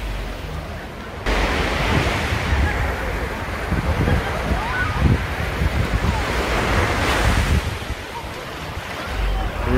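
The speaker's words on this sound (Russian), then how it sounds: "О, здесь уже волна, надо осторожней. Здесь уже набегает" Ocean surf on Waikiki beach in Hawaii at incoming tide, a continuous loud wash of breaking waves with heavy wind rumble on the microphone.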